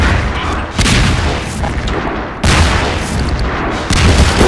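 Grenade explosions in the video game Half-Life 2 Episode 1, several loud booming blasts in quick succession amid heavy combat noise, dense and close.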